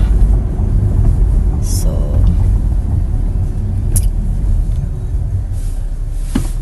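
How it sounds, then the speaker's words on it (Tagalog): Road traffic on a cold Sunday morning in the US, a steady low rumble of passing cars and engines close by, continuous throughout with brief higher hisses of tyres. "The traffic guys. Ganun talaga ang Sunday morning here sa US."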